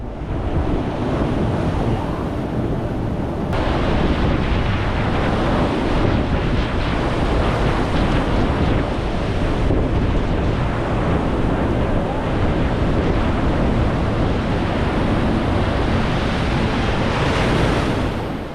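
Steady roar of ocean surf washing and breaking close by on the rocky shore at Spray Point, continuous and loud, with wind buffeting the microphone throughout.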